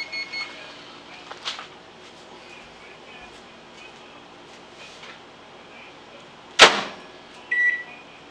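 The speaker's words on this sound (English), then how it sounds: "that little beep you heard in the background meant my oven hit" A kitchen oven gives a single short, bright beep on reaching its preheat temperature, faint in the background against quiet room noise, with a brief second chirp about a second later.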